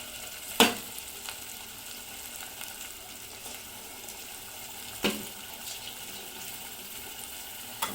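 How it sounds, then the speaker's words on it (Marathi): A ground paste of coconut, onion and tomato frying in oil for a rohu fish curry, a soft steady sizzle with a few sharp clinks of a spoon against the pan. "आता हे आपला मसाला तेलामध्ये येईपर्यंत याला परतवत राहायचं आहे"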